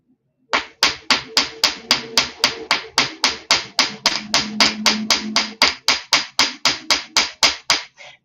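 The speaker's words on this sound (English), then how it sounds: "I just hammer the whole thing a bit to just flatten it" Around two dozen light, evenly spaced hammer taps flatten jewelry wire, each a sharp metallic tick with a short decay, struck in a quick steady rhythm close by, without talk.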